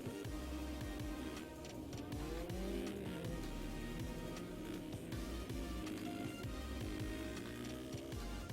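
A motorcycle engine in a racing video game drones steadily at moderate volume with quick shifts in pitch, set against a continuous dense background of game sound and no speech.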